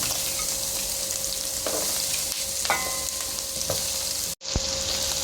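Pork and onions fry for pansit habhab. A loud, continuous sizzle and crackle fills the pan, with occasional stirring scrapes and a brief dropout near the end, and no voices.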